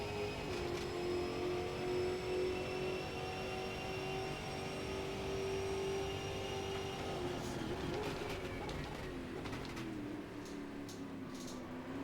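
A race car engine in the sim game Automobilista 2 drones steadily at high revs, with a sustained tone that dips and shifts as the car works through a corner, then picks up again.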